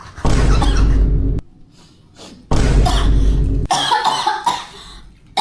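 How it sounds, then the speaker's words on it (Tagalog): A man coughs hard in several loud, harsh bursts separated by short quiet gaps, heard close up indoors. "Lakas na ng ubo mo."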